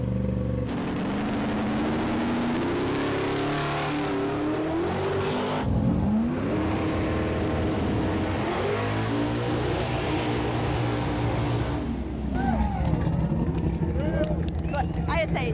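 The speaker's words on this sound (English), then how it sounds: "So they're starting the engines up one at a time to see who's the loudest." Car engines revving loudly one after another at a car show, deep roaring revs rising and falling in waves with sharp pops, while a crowd and voices sound underneath.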